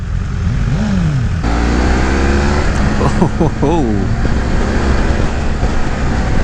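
A 2018 BMW F 800 GS motorcycle engine revs in rising, falling pitch sweeps over steady wind and road roar, with a brief spoken exclamation.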